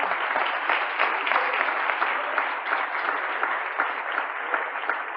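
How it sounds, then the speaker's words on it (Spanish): A church congregation applauds, a sustained and even wall of many hands clapping that stays loud from start to finish. "Démosle un aplauso al Señor."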